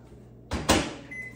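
A microwave oven door shuts with a sharp thump, quickly followed by a second clunk and the hum of the oven starting, then a faint tone.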